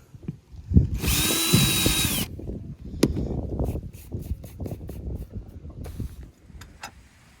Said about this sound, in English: I'm drilling the smaller hole into the epoxy